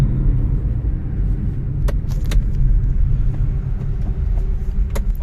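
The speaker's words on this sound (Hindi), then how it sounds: "मेरी गाड़ी जो है पीछे आ गई है" Car driving along a road at the start of an early-morning journey, a steady low rumble of engine and tyres inside the cabin, with a few faint clicks and jingles like keys over it.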